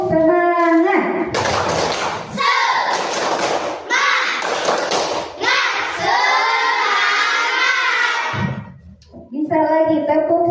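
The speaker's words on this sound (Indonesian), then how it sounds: "kita tepuk semangat dulu" A classroom of children performs a rhythmic clapping chant, loud shouted voices alternating with bursts of group clapping and thumps, a teacher's voice leading between the sections.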